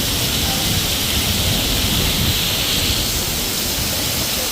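Sudden heavy rain pours down outdoors as a dense, steady roar of broadband hiss that holds at the same high level with no pauses.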